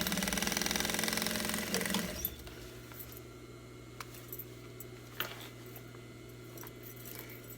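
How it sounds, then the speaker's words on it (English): A sewing machine stitches the bottom seams, running in a steady close whir for about two seconds, then stopping and leaving faint clicks and small handling noises. "then you sew the bottoms"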